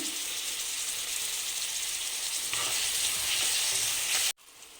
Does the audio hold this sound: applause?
no